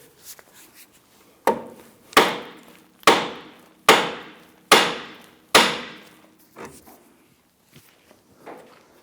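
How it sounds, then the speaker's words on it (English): Five sharp metallic hammer blows strike the steering knuckle of a 2011-2021 Jeep Grand Cherokee in a steady rhythm, each ringing briefly before fading, followed by a few softer knocks. "We're going to use a hammer and strike the knuckle here to go ahead and pop that out."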